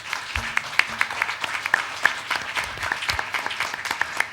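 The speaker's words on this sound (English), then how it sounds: "how about a nice round of applause for our candidates?" A modest audience at a trustee candidate forum claps in scattered, distinct hand claps, moderately close, with a brief low hum near the start.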